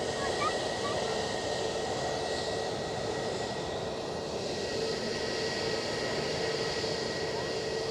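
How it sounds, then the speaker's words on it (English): The Rolls-Royce RB211 jet engines of an airliner at Edinburgh airport spool up in a steady, broad roar with a faint whine, heard from a distance and holding at an even level. "Listen to the sound of the RB211s feathering up."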